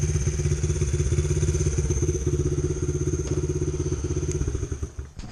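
A Honda XR70 motorcycle fitted with an 88cc big bore kit running at close range, its single-cylinder engine putting out a fast, even putter that sags and stumbles near the end.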